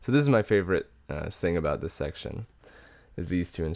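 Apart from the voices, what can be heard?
No everyday noise stands out behind the speech.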